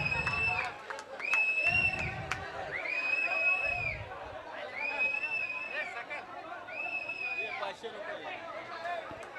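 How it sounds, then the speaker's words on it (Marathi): A crowd at a dahi handi event in Sanpada cheers a Govinda troupe, a lively roar of voices and shouts rising and falling, with a loud amplified announcer talking over it and some sharp bursts near the start. "सुंदर सुंदर जरा जोरदार टाळ्या होऊन जाऊन द्या"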